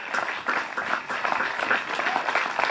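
A crowd applauds after a band's live set, a steady wash of many clapping hands at moderate level with a few louder spikes, no voices on top.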